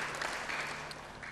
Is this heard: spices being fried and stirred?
no